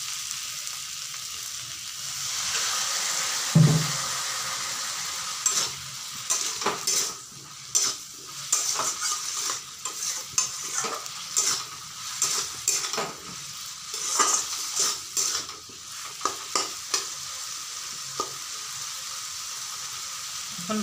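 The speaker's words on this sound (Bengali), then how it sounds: "এখন এতে আমি সামান্য একটু জল দিয়ে তারপর কষাবো।" Spiced dried fish being sautéed in a pan after a splash of water, with a soft steady sizzle under repeated scraping, clinking stirs of a metal spoon in irregular bursts.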